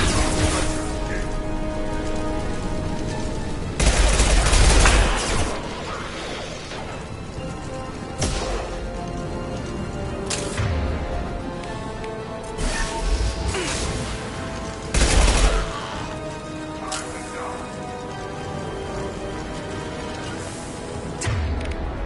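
Gunfire and explosions from the video game Mass Effect 2, a dense battle din with several loud booming bursts punching through continuous shooting and clatter.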